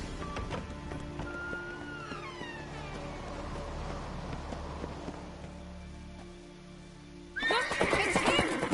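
A horse whinnies amid The Witcher 3 game ambience with low hum, then galloping hoofbeats and another whinny burst in loudly near the end.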